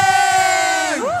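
A crowd at a live grand final competition event cheers and whoops loudly, with a sustained mass of voices that rises and bends at the end, close and energetic.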